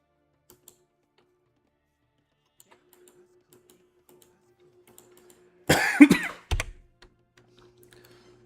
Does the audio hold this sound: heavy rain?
no